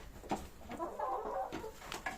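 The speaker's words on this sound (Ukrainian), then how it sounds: "Курка, ти жива?" A chicken clucks in short, low bursts close by, with faint rustling in between and no talking.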